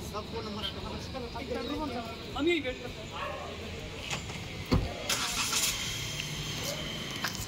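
A new car's engine starts and runs at a steady mid-pitched hum before driving off, with people talking over it throughout.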